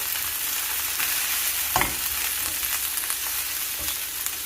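Leeks frying in oil in a hot pan, a steady close sizzle with occasional soft clatters as they are stirred and tossed.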